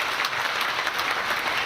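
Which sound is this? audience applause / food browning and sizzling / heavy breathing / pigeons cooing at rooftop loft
audience applause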